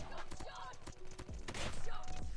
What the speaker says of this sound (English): Oh, I got shot in the back.